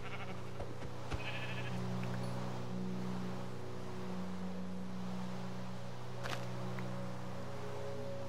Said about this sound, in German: Da unten ist schon mal ein Schaf.